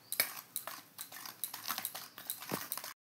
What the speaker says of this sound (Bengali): আমি এই চিনি ডিম এবং তেলের মিশ্রণটাকে ভালো করে আমি অনেকক্ষণ ধরে ফেটিয়ে নেব